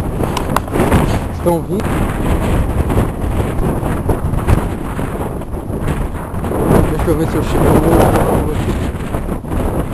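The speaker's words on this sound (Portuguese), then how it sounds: "é um vento isso aqui que vocês não tem noção. Venta pra caramba aqui." Strong, continuous wind buffets the microphone at the crater rim of Mount Vesuvius, a loud roaring rush that persists throughout while people talk over it.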